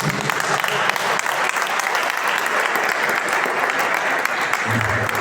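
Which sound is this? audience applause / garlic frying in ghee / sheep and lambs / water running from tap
audience applause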